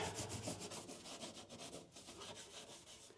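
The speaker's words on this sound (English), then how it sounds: "So we're going to scuff a little bit of the surface here." A Camaro center console surface being scuffed by hand with an abrasive, a steady run of quick, close rasping back-and-forth rubbing strokes with no voices.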